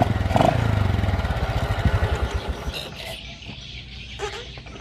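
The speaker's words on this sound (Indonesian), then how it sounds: "Nah, motornya pun langsam, enak, nggak ada masalah apa-apa, normal ya." A motorcycle engine, one that tends to stall after riding about 100 meters, idles steadily with an even low putter close by, then settles quieter with a few light clicks.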